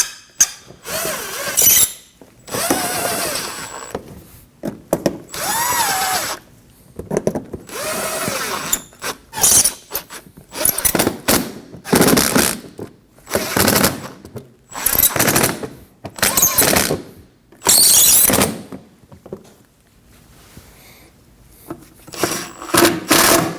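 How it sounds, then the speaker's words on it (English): A power tool drives screws into the fender liner of a 2015-2024 Ford Edge 2.0L, delivering repeated loud whirring bursts of a second or two each, separated by short pauses, close up and without talk. "We can install the screws into the front side of the fender."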